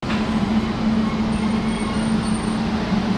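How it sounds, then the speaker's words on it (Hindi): A train at a railway station produces a loud, steady rumble with a constant low hum throughout. No one speaks. "और हम स्टेशन पे हैं।"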